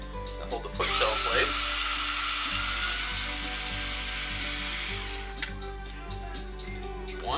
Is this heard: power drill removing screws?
yes